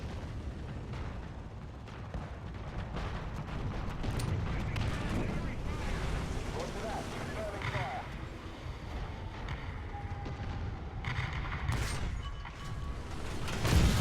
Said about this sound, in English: Let's call on a mortar strike on the point here so I can see what the hell's going on